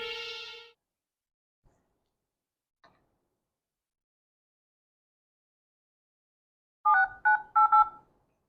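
A short tone sounds, then after a quiet pause a quick burst of several beeping telephone keypad tones, clear and close.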